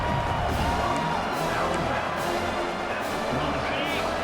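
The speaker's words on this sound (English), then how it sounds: "It's early, but this crowd is fired up. Listen to this noise here." Stadium crowd roaring in the NCAA 26 college football game during Texas vs Georgia, a dense, steady wall of cheering and whoops that stays loud throughout, with faint commentary-like voices mixed in.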